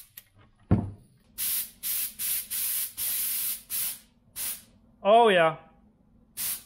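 Amsoil MP sprayed as a mist onto the frame of a fourth-generation Toyota 4Runner, heard as a series of loud, close hissing bursts of about a second each with brief pauses, plus a short spoken remark.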